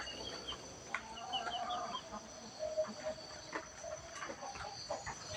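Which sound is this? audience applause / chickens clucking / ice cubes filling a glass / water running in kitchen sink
chickens clucking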